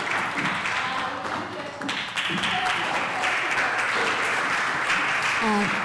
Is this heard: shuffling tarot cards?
no